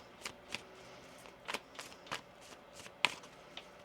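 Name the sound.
shuffling tarot cards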